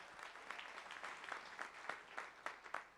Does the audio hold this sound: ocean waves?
no